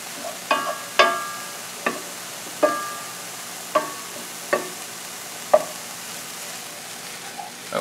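Mushrooms sizzle softly in a hot pan while a utensil stirs them, giving a steady frying hiss broken by about ten sharp scraping and clacking strokes at an irregular rhythm, close up with no talk.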